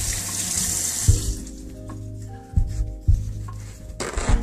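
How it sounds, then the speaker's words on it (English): Running water from a sink tap while hands are washed under it, a steady hiss at first, then splashing and rubbing with a few bumps and clunks nearby. "Wash our hands, get that mustard off."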